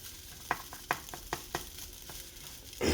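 Cooked rice for restaurant-style Chinese shrimp fried rice is worked in a pan to break up lumps: a series of sharp spatula scrapes and taps at uneven intervals over a soft sizzle, ending in a louder frying burst.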